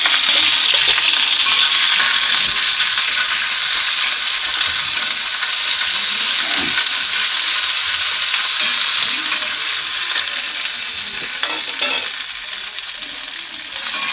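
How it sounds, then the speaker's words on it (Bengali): Ginger, garlic and green chilli paste fries in a pan with cumin seeds already in the oil, giving a steady, close, fairly loud sizzle that runs the whole length with faint stirring scrapes and no talk. "এবার দেখুন আদা রসুন আর কাঁচা লঙ্কার পেস্টটা দিয়ে দিলাম"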